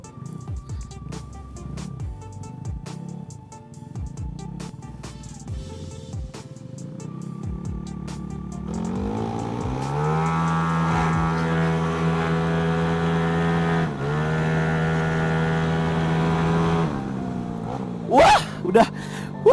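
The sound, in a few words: Vespa Sprint scooter engine running and revving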